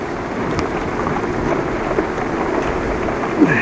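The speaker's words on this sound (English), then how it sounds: "It's raining on me." Steady rain falls on an outdoor scene in a continuous dense patter close to the microphone, with a few louder drops near the end.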